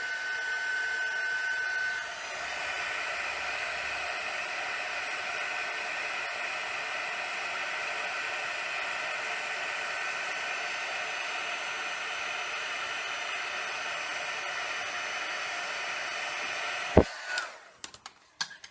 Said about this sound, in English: Give it a quick blow just to get any loose particles off, and then heat emboss.